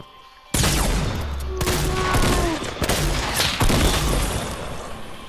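Gunfire in the video game Fortnite, loud rapid bursts of shots starting abruptly and continuing in rattling volleys with impact crashes, close and sustained.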